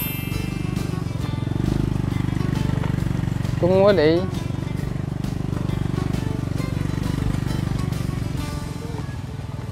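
A motorcycle engine drones steadily and low throughout while it is ridden, under people talking, with one brief rising whine partway through.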